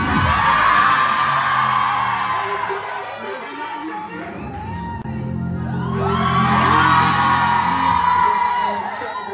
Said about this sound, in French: Les gens sont en train de huer, je sais pas qui encore.